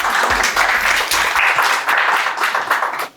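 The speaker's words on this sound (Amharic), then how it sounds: "ለራሳችሁ ጭብጨባ።" A small crowd claps steadily for about three seconds, close and loud, at an International Women's Day event, before the applause quickly dies away.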